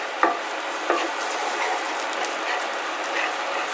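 Garlic frying in a pan while being stirred, a steady sizzle with two sharp scrapes of the utensil near the start and lighter clinks throughout.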